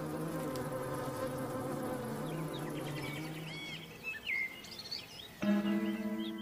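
Honeybees buzzing in a steady droning hum close by, with pitch wavering as insects move about, later joined by faint bird chirps and a brief louder buzz near the end.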